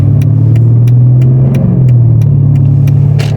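Car engine fitted with an aftermarket exhaust, revving loudly and steadily up close, a deep droning rumble that dips briefly and climbs again, with faint ticking clicks in the background.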